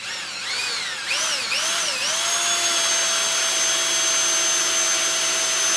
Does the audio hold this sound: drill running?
yes